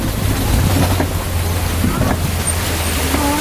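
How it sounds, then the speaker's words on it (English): A safari ride vehicle rolling slowly through water at the Kilimanjaro Safari in Animal Kingdom, a steady low engine drone under continuous splashing and sloshing, close and fairly loud. "We're gonna go through some water."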